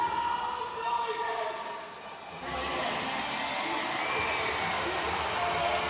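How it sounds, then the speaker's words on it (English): A crowd at an AHL hockey game between Lehigh Valley and Charlotte roars to life in the arena, a broad, sustained cheer that swells after a brief lull, with a commentator talking over it. "The crowd comes to life."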